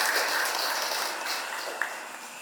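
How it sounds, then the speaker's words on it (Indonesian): An audience at an Indonesian vocational school event applauds, a dense burst of clapping that starts strong and slowly fades over a couple of seconds. "Kasih tepuk tangan untuk kita semua."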